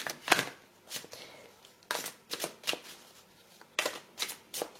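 Tarot cards from a Doreen Virtue love deck being shuffled in quick riffling bursts, a few sharp papery flurries separated by short pauses, close and fairly quiet with no voice over them.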